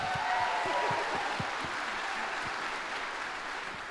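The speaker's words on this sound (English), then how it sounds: "Another round of applause." Audience applause at a school talk for parents, steady clapping that begins strong and slowly thins out over a few seconds, heard alone without speech.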